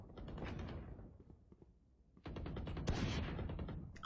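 Rapid automatic gunfire crackles in a Counter-Strike deathmatch, loud bursts of sustained shooting separated by a brief lull, then more sharp volleys and single shots from several directions.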